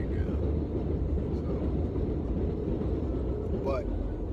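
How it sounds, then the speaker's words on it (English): A train rumbles past in East New York, a loud steady roar of wheels and rail noise filling the whole stretch with no break. "I got the train coming, so you gotta give me a minute"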